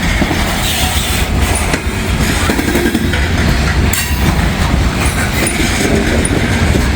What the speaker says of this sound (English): You can hear the groaning and moaning as it goes around the curve here.